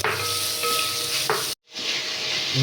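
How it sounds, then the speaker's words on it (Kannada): Ginger stirred and fried for chicken sukka sizzles loudly and continuously in a pan, with the scrape of a stirring utensil and a brief full cut to silence midway. "ಇಲ್ಲಿ ನೋಡಿ ಕಿಶೋರ ಶುಂಠಿ ಗುಸ್ತಾ ಇದ್ದಾನೆ"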